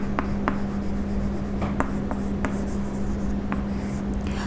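Pen strokes scratch across paper as accounting examples are written out by hand, a steady close scribbling with small taps and a constant low hum beneath.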